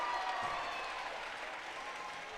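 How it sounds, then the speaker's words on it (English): Home crowd at a girls high school basketball game between Aquinas and Onalaska applauding a defensive effort, a steady, fairly faint wash of clapping that holds level across the whole stretch. "Onalaska faithful applauding this defensive effort so far."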